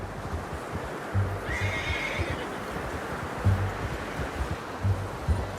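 A horse whinnies in a short, high call in Red Dead Redemption 2, over a steady background of ambient rustle, with soft hoof thuds here and there.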